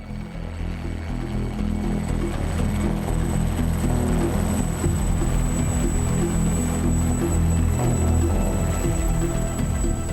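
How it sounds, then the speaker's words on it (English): A rescue helicopter arrives at a mountain rescue scene on Mont Blanc, its loud, steady rotor and engine drone filling the air throughout, with no voices. "The helicopter arrives."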